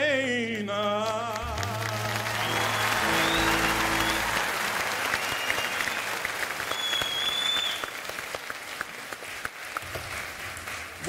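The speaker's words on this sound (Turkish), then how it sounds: "sesleri, alkış sesleri bu kadar çıktı" Sustained audience applause fills a concert hall after a live song, dense clapping that carries on for several seconds, opening over the last sung notes and gradually thinning toward the end.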